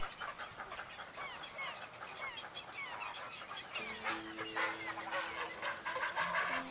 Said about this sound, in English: A colony of little egrets.